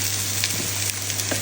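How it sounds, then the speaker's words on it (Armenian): Chicken breast frying with onion in a pan, a steady broadband sizzle holding evenly throughout, with a faint constant hum underneath and a few soft stirring scrapes. "Սոխը տապակվեց, լցնում եմ հավի կրծքամիսը։"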